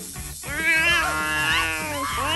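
A cartoon cat lets out a long, drawn-out meow that rises and wavers, loud and close, with no other sounds around it.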